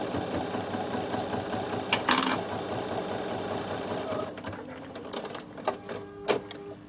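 A Bernina 7 series embroidery module runs a basting stitch with a steady mechanical whir and rhythmic clatter, close and continuous, with a few sharper clicks from the machine toward the end.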